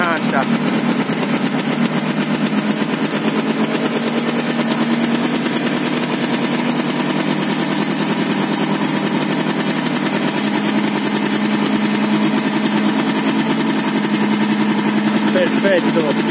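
Vespa scooter fitted with a 102cc cylinder kit, engine running steadily and loud close by with a constant buzzing drone that holds even for the whole stretch.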